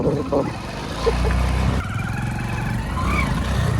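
A two-wheeler engine drones steadily while being ridden with a passenger on the back. It is close and continuous, with a low, even hum and a slight rise partway through, and voices now and then.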